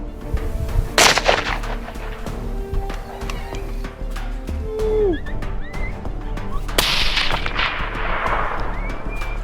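A bolt-action centerfire rifle fires during a low-light wild boar hunt. One sharp, loud shot cracks near the start and another burst follows later over steady outdoor background noise.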